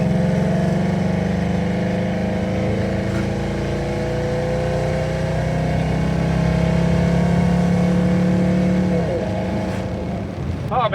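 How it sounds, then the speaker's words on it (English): A carbureted Ford Mustang pulls hard in manual gears, its engine a loud, steady droning roar heard from inside the car, with a brief change in pitch near the end as a gear is shifted. "If I downshift it and let her eat, I'm just gonna manually go through the gears."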